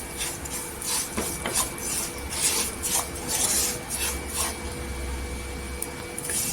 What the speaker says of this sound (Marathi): एक वाटी रवा टाकायचा छान असा घीवर भाजून घ्यायचा